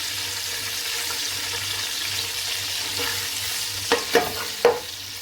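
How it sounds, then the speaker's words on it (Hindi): Onions frying in a pan for chicken pulao give a soft, steady sizzle at moderate distance, then three quick clattering stirs near the end, with no one talking. "अब अनियन को तब तक आपने फ्राई करना है जब तक ये लाइट गोल्डन ब्राउन कलर में नहीं आ जाता"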